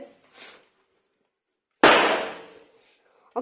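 A single firecracker bursting during Diwali in a village, one sharp loud bang with a decaying echo, close, set among quiet stretches with brief voices before and after.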